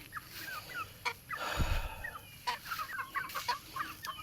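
Young pullets and five roosters at a small mini-farm clucking and calling softly in short, scattered bursts, with a brief low thump in the middle and no talking.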